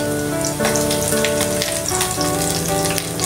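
Garlic, onion and chili sizzle and fry in a hot pan on the stove, a steady loud crackle under a background of sustained tonal hum and music.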